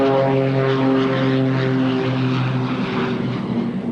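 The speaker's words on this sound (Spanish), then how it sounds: "volaban en misiones suicidas lanzando sus aviones cargados de bombas a los blancos enemigos" Propeller engines of WWII Japanese kamikaze aircraft drone loud and steady, a close, continuous buzzing roar with a stable pitch that holds for the whole stretch without speech.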